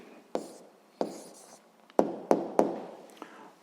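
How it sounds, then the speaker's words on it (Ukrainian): A pen writes out a physics answer by hand on paper: short scratchy strokes come in about six distinct bursts with quiet pauses between, close and fairly soft, with no talking. "Гаразд, записуємо відповідь."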